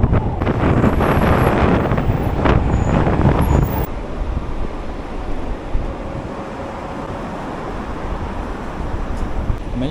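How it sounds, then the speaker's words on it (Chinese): Strong wind roars and buffets the microphone while riding an electric scooter, very loud for the first few seconds, then easing to a steadier rushing gust. "没想到那么大的风"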